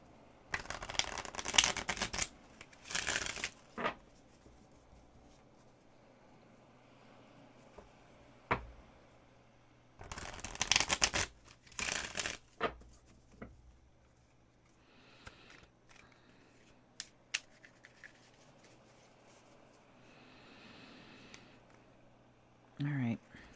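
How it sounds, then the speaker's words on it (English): Tarot cards are riffle shuffled in several quick fluttering bursts, each a sharp rapid cascade of card edges, with softer handling clicks and taps between them up close. "Okay, they want a riffle shuffle."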